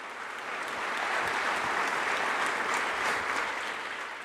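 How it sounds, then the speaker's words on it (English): An audience at a live civic event in St. Pete, Florida breaks into steady applause, a dense wash of clapping that swells and holds for a few seconds without voices. "One more round of applause for Deneen, the Shore Acres Choir and Shore Beats"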